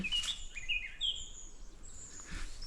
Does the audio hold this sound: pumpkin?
no